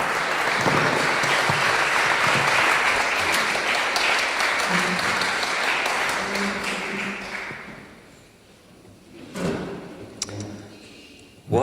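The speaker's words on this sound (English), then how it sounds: "Let's give him a round of applause" A seated audience claps for a guest speaker at a climate talk, a dense, loud, steady round of applause lasting several seconds before it thins out, with a few scattered claps and a thump as the room settles.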